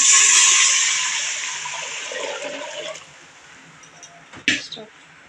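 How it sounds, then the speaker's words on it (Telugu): Water poured into a cooking pot for paneer biryani, a loud rushing splash that gradually thins to a trickle, followed by a couple of brief knocks. "టూ లీటర్స్ వరకు అయితే వాటర్ పోసుకోవాలి"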